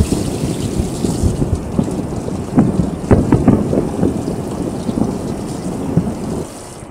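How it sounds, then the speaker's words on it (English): Pasta is rinsed under running water in a pan to wash off excess starch, a loud, uneven splashing and spattering that carries on for several seconds and then stops abruptly. "Now we're gonna take our pasta and we're gonna wash it to get the excess starch off"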